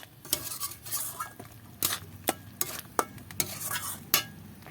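A spatula scrapes and knocks in a pan while turmeric-spiced potol stuffing is stirred and dried over a soft sizzle, giving a series of sharp clacks at an uneven pace, close up, no voices.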